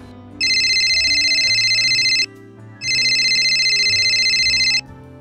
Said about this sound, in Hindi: रुखसाना के पास फोन करती हूँ